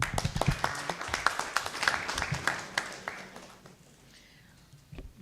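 An audience at a judicial ADR training session in a hotel in Mbarara claps in a burst of applause that thins out and fades to quiet, with a few scattered late claps at the end.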